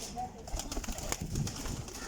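Sialkoti flying pigeons with pearl-like markings coo softly amid rustling and wing flutters nearby, under a noisy outdoor background with occasional clicks.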